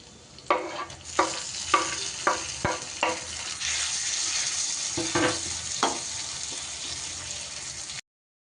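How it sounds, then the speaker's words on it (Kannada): Onions and tomato fry in a pan, with a close sizzle broken by a series of sharp spatula scrapes and knocks, about a dozen in all, before the sound cuts off. "ಈರುಳ್ಳಿನ ಫ್ರೈ ಮಾಡ್ಕೋಬೇಕು ಚೆನ್ನಾಗಿ"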